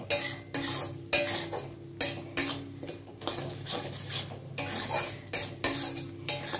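Poppy seed and mustard paste with green chilli is stirred in a hot pan, repeated scraping strokes of a metal spoon over a faint sizzle, rhythmic and close.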